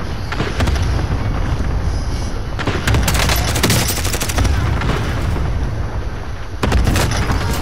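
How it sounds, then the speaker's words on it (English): A cluster airstrike in a first-person shooter video game lands as a dense run of rapid, crackling explosions, loud and continuous, with a fresh burst of blasts near the end and no talking. "Cluster strike away."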